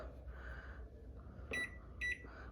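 LG microwave oven being set to convection mode, a low hum with two short bright electronic beeps close by, no talk.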